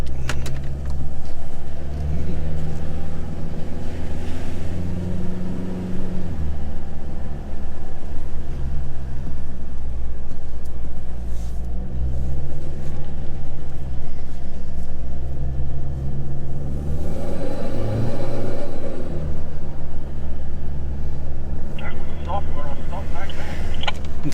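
Car driving and turning around on a road near the capes around Margaret River, a steady loud engine and road rumble that shifts pitch as it slows and swings round, with people talking over it.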